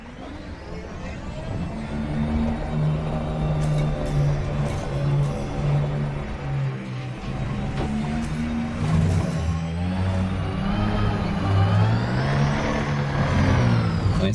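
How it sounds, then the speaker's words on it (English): A vehicle engine from the space game Elite Dangerous, driven on a planet surface, gives a steady, loud, droning hum with wavering pitch that rises and falls, continuous for the whole stretch with no talk. "It's more than just the engine noise."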